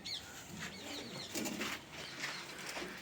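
Pigeons in a loft holding wild and domestic birds, including a white ground roller, give soft coos and wing flaps at moderate distance over steady background noise.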